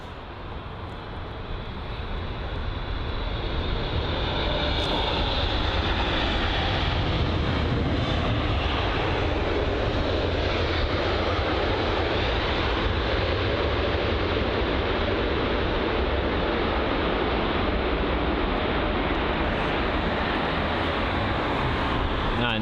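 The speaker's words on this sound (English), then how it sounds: "the China Eastern Boeing 777-300" A China Eastern Boeing 777-300 jet arriving at London Heathrow from Shanghai produces a loud, steady broadband engine roar that builds early and holds throughout, with no talking.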